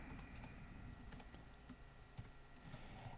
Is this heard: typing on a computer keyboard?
yes